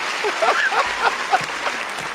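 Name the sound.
audience applause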